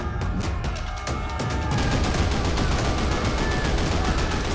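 Heavy artillery and rapid gunfire in a film battle scene, dense continuous volleys of loud shots blending into a sustained barrage throughout.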